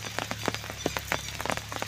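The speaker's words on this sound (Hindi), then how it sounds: "ये देखिए बारिश कितना हो रहा है" Heavy monsoon rain patters steadily onto an umbrella and surrounding fields, with a dense wash of close, irregular drops hitting the surface.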